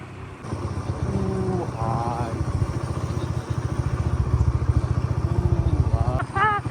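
A motorcycle engine climbs a steep hill road, chugging and revving with a rising, pulsing note, while voices talk over it.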